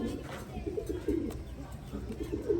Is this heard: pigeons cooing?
yes